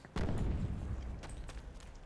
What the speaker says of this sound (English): Whoa, that water explosion.